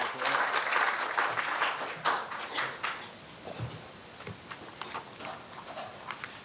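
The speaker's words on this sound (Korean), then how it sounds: "큰 박수로 맞아주시기 바랍니다." Audience applause filling a conference hall at a Korean charitable-giving policy forum, a dense clapping burst that thins into scattered claps after a few seconds.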